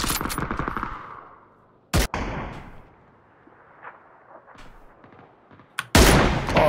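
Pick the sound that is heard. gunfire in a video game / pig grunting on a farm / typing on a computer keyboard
gunfire in a video game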